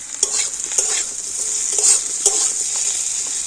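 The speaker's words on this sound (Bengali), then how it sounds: "আর এবারে আমি কাঁকরোলটা তেলের মধ্যে একটু লাল লাল করে ভেজে নেব" Oil sizzles steadily as teasel gourd fries, with occasional scrapes and clicks of stirring across the pan.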